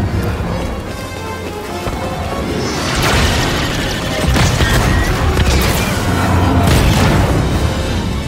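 Loud booming blast as a coupling is shot out in Star Wars Jedi: Fallen Order, heavy crashing rumble rolling on for several seconds with repeated impacts and debris, no voices.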